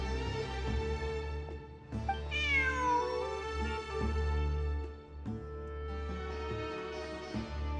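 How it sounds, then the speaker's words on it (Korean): A cat in a video game lets out one clear, rising-then-falling meow midway through, heard over a steady, sustained musical backdrop with no talking. "저기 봐. 고양이야."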